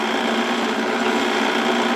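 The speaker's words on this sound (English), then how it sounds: "I was able to just use a file and literally turn the drill press on" A drill press spins an engine valve while a hand file works its face, giving a steady whirring, scraping hum at close range for the whole moment, with no voices.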